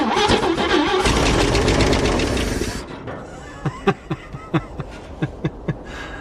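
A 1956 Chevy engine, undriven for over twenty years and running on old fuel, catches and roars loudly for a few seconds. It then drops away to a quieter background broken by a series of sharp, separate pops and knocks.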